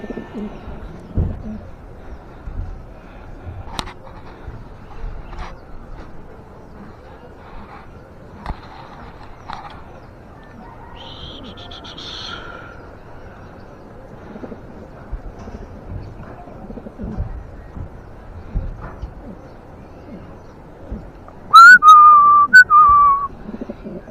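Racing pigeons at a loft as a hen arrives, with soft low coos and scattered bird calls through a quiet background, then a brief louder burst of calls or whistles near the end.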